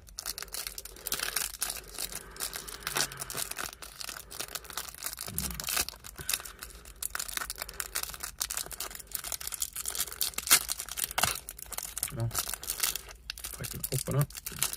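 A Yu-Gi-Oh! Legendary Duelists card pack being torn open by hand gives close, continuous crinkling and tearing of foil packaging, steady and fairly quiet, with brief louder rips.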